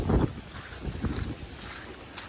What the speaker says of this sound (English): Oh no, and it's windy.